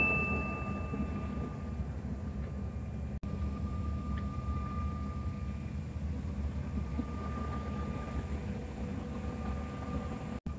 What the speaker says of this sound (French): On est dans un tout petit avion.